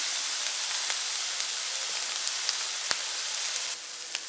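Chicken and soy skewers sizzle on a hot plancha, a steady, even broadband hiss with a few small pops and crackles, close and alone with no voices.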